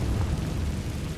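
Confringo blasting spell exploding in Hogwarts Legacy, a dense low rumbling boom that holds steady and loud throughout with no pause.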